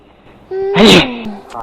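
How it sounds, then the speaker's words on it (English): A single short, sharp sneeze, loud and close, with a brief breathy intake just before it. "and it's making me sneeze."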